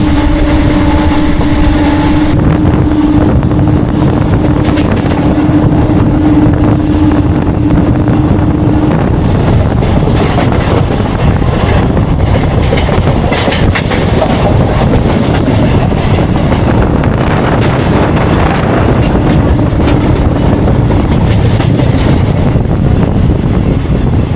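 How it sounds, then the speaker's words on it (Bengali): A MEMU local train between Kharagpur and Balasore runs at speed, close to a hundred, with a loud continuous rumble and wind rush throughout. "ট্রেন ভালো স্পিড টানছে কিন্তু প্রায় একশো মতন কিন্তু ছুঁয়ে দিয়েছে ট্রেন"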